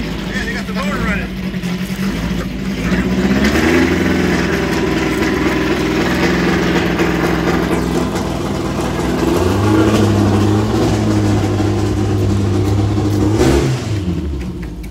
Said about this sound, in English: That's the Salmon's motor that's going to go in this thing. Yeah, they got the motor running.